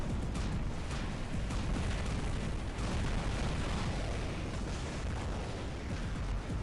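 Hydra missile launchers firing in the robot combat game War Robots, producing a dense, continuous roar of rocket blasts and rumbling explosions that stays loud and unbroken throughout.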